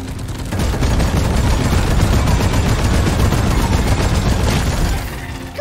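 Dense, continuous automatic gunfire in the Deep Rock Galactic video game, a loud rattling burst of rapid shots that runs for several seconds before cutting off, with no speech over it.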